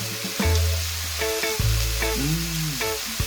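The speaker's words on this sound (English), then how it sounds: "Yeah, the tomatoes are cooking now." Tomatoes fry in a pan on the stove, giving a hissing sizzle broken by several stirring and scraping sounds with ringing, tonal squeals from the pan, with no talking.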